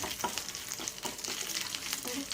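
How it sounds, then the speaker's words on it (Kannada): Dried red chillies and chana dal frying in oil for a curd rice tempering, heard as a dense, even crackling sizzle up close with faint stirring, alone and unbroken. "ಚೆನ್ನಾಗಿ ಫ್ರೈ ಮಾಡ್ಕೊಂಡು ಸ್ವಲ್ಪ ಕಡಲೆಬೇಳೆ ಕೆಂಪಾಗೋವರೆಗೂ ಅಷ್ಟೇ ಫ್ರೈ ಮಾಡ್ಕೊಳ್ಳಿ"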